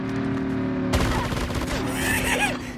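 Rapid bursts of video game gunfire break out suddenly after a steady tonal hum, loud and close, continuing for about two seconds with voices shouting over it.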